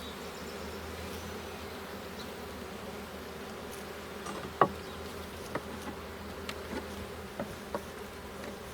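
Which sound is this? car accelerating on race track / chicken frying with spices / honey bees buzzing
honey bees buzzing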